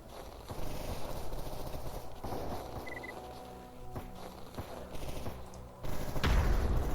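Distant firefight in the video game Stalker Anomaly, with scattered muffled gunshots popping faintly across a steady ambient background and a louder thump near the end.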